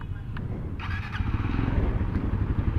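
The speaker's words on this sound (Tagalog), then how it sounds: "Dito na yung motor natin," A Suzuki GSX-S150 motorcycle engine runs close by in an outdoor lot with a low, steady putter that swells slightly louder toward the end, with a brief squeal partway through.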